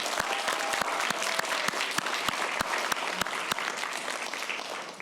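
An audience claps steadily in a sustained round of applause for the organizers at a conference opening ceremony, moderately loud, with no talking.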